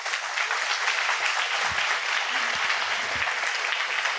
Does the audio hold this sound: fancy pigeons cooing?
no